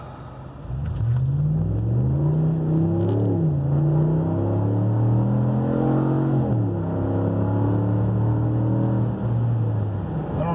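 A car with a DiabloSport Pulsar module accelerates from a standstill to 60 mph, its engine droning loud and close as the pitch climbs and drops through several gear shifts, steady and without speech.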